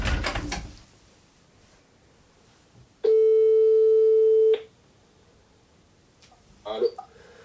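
A telephone ring tone sounds as one steady, loud electronic tone lasting about a second and a half in an otherwise quiet room, with a short burst of speech before it and a brief voice after it.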